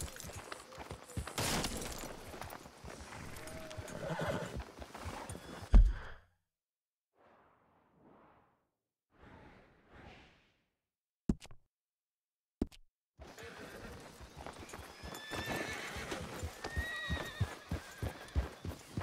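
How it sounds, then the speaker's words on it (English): Horse neighing and hooves clip-clopping in the Western open-world game Red Dead Redemption 2, a busy stretch of hoof and movement sounds, a quiet gap with faint rustles and sharp clicks, then dense activity returning. "Careful with that horse, Arthur."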